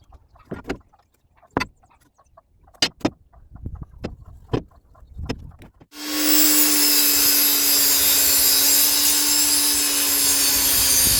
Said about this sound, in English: I just set my bump stop on my chop saw at the correct depth and just go to town